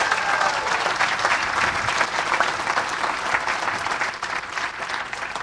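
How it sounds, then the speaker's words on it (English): Sustained applause from a convention audience at a political gathering, dense steady clapping from a crowd filling the whole stretch at an even level. "Give yourselves a round of applause"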